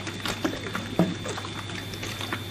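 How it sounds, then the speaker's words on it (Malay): Sound effect of a small fish falling from a dog's mouth into a river: one sharp splashing plop stands out midway through a soft, liquid, bubbling background. "Ikan di dalam gonggongannya terlepas ke dalam sungai."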